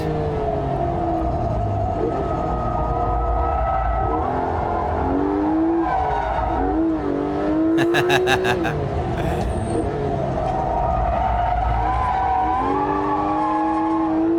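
A Porsche GT3 RS in a racing video game revs hard while drifting, its engine note rising and falling continuously with tyre squeal and a brief burst of gear or limiter stutter, loud and close throughout.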